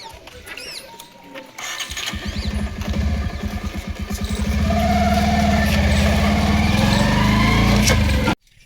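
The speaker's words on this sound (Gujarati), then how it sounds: "પિયુષ પેલું એક બાઈક આવે છે ને જોજે" A motorcycle approaches, its engine growing louder and then holding a loud, steady drone nearby before the sound cuts off abruptly.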